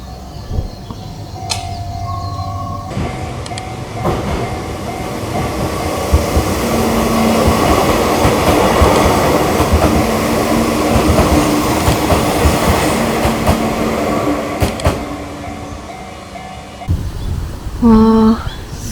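An Enoden electric train in Kamakura, Japan, rumbles past close by for several seconds, its rolling roar swelling and fading, followed by the ding of a railway crossing bell.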